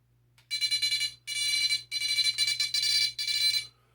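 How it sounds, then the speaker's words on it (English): Loud, close electronic beeping from an NGT VX1 carp fishing bite alarm, sounding in five or six rapid bursts of high-pitched tone with short gaps between them, over a faint steady hum and no talking. "NGT VX1 bite alarms."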